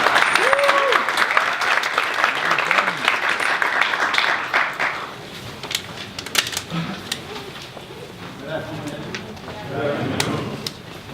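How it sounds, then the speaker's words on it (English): An event audience applauds to welcome a speaker at a North Carolina A&T speaker series, a dense burst of clapping that fades after about five seconds, with voices talking over the tail and afterward. "So if everybody just give him a round of applause."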